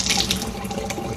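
Zip HydroTap in a kitchen sink mixer setup pouring sparkling, CO2-filtered water, a steady close hiss of running water splashing into the basin throughout the short moment.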